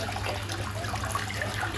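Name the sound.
toilet pan flushing water around the bowl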